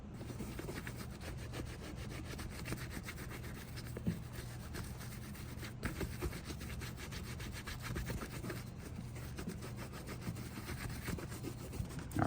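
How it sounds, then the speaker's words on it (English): A dry cloth rubs briskly back and forth over leather boots, a steady rhythmic scuffing close to the ear that continues without pause, with no talk. "now I'm just taking a dry part of the cloth and just wiping off the excess"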